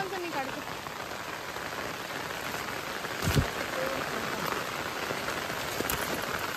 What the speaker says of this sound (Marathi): भिजा नको पाऊस खूप लागतो